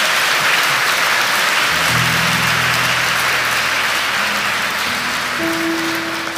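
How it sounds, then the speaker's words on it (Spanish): A church congregation claps in a loud, dense, sustained round of applause, with a low organ or keyboard tone entering and holding beneath it partway through. "Den un fuerte aplauso al Señor"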